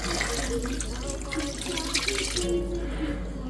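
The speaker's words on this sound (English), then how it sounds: "I'm going to start pouring right there just because we got some potatoes." Water and bouillon liquid are poured into a crockpot over cubed venison steak and potatoes, making a continuous close gurgling splash that runs steadily throughout.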